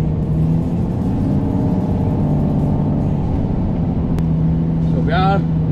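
A Mercedes-Benz Arocs 4663 SLT 8x8 truck pulling a trailer drives on steadily with a low, continuous engine drone and road rumble, and a brief chirp is heard near the end.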